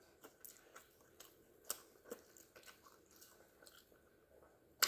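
Quiet, close chewing and crunching of sardines and dried fish at a breakfast meal, a series of soft irregular bites with occasional sharper clicks.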